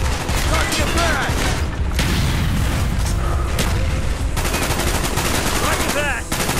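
Heavy, continuous gunfire from Call of Duty: Black Ops, with rapid automatic bursts and booming blasts filling the whole stretch and shouted in-game voices under the combat.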